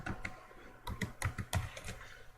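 Typing on a computer keyboard during photo-editing software work, a quick irregular run of close, crisp key clicks over about two seconds, with no voice.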